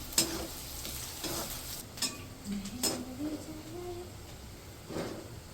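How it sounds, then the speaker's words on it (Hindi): Onions frying in hot oil in a home kitchen, a soft quiet sizzle broken by scattered clinks and stirring scrapes of a utensil against the pan. "और अब थोड़ा प्याज को भूनूंगी"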